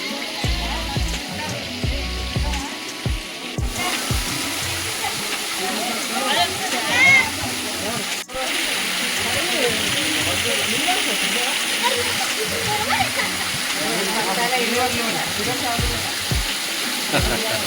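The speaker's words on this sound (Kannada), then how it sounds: "ಅಲ್ಲಿ ನೋಡಿ ಒಂದು ಫಾಲ್ಸ್ ಇದೆ" Waterfall on a hillside near Srisailam, its water pouring down as a steady broadband rush that fills the whole stretch at moderate distance, with people talking over it.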